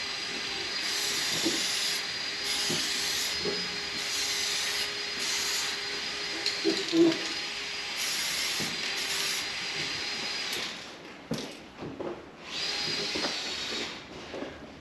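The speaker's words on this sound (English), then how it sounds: "I'm moving the can really quickly, not standing still too long anywhere." A spray can painting a fiberglass van side flare in a workshop, several bursts of hissing spray, each a few seconds long with brief gaps, close and fairly loud, ending with a couple of shorter sprays.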